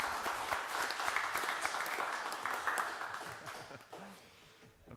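Council meeting attendees applauding a member's birthday, a short burst of moderate clapping that fades out toward the end, with faint voices underneath.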